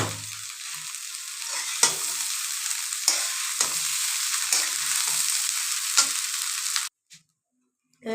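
Cooked rice is stir-fried with fried vegetables in a hot pan, giving a continuous sizzle broken by regular scraping strokes of a spatula about once a second, then a sudden drop to near silence at the end.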